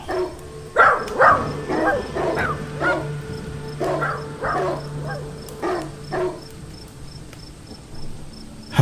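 Several dogs bark in irregular bursts over a steady night backdrop of chirping crickets and insects, a layered sound-effect scene in a Hindi-language audio drama; the barks come and go at moderate distance, with no speech.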